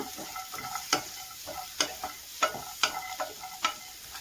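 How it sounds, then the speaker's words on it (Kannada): Cashews and onion fry in a pan under steady stirring, a continuous sizzle punctuated by regular sharp scrapes of a utensil against the pan, close and with no talk. "ಹಾಗೆ ಸ್ವಲ್ಪ ಗೋಡಂಬಿ, ಹಾಗೆ 1-2 ಗಡ್ಡೆಯಷ್ಟು ಈರುಳ್ಳಿ. ಈಗ ಇದನ್ನು ಫ್ರೈ ಮಾಡ್ಕೊಳ್ಳೋಣ."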